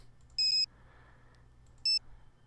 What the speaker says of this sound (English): Let's go ahead and call Savannah real quick